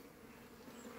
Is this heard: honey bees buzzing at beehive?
yes